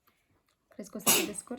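A single loud, sudden sneeze from a nearby person, bursting out after a short stretch of quiet speech, with talk continuing right after.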